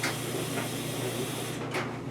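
Spray can hissing steadily in a home workshop while finishing a home-built Samsung washer and dryer pedestal, a continuous close airy spray that dips briefly near the end.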